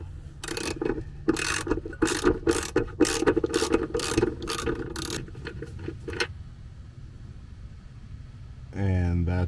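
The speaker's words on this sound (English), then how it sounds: "grab a 14mm, which is the size of the bolt, and then you're gonna unscrew it" A hand ratchet with a 14mm socket works a bolt loose on the driveshaft carrier of a 2022-or-later Subaru BRZ / Toyota GR86, rattling in quick clicking bursts up close, then falling quiet before a brief voice at the end.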